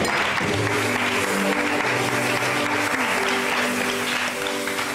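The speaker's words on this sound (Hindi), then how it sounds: "बहुत सारी तालियां फहमीदा के लिए।" A studio audience on a Pakistani entertainment show applauds in a continuous, loud wash of clapping, with background music and voices running underneath.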